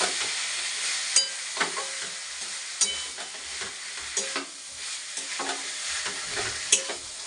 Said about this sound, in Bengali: তেল ছেড়ে এসছে, আমি কলা ফুলের সিদ্ধটা দিয়ে দিচ্ছি